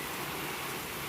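Steady rain falls without a break, a dense, even hiss of drops that fills the whole moment.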